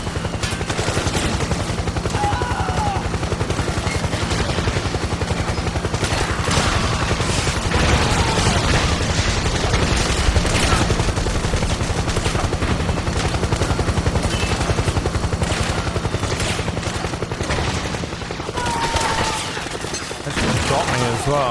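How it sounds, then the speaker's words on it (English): Heavy gunfire and explosions from a PMC airstrike in the video game Metal Gear Solid 4 fill the scene, with a dense, continuous roar of shots and blasts and a helicopter-like drone running loud throughout. "PMC airstrike!"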